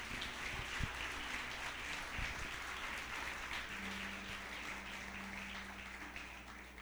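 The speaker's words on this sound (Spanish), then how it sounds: "un fuerte aplauso al Señor" A congregation applauds during a church celebration service, a continuous wash of clapping with a low hum underneath, moderately distant and even in level.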